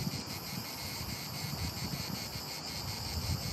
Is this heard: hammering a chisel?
no